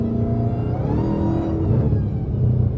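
Dodge Challenger Hellcat Jailbreak with an aftermarket Legmaker intake revving hard, the loud engine rising and falling continuously across the clip with a steady, dense roar and rough crackling edges.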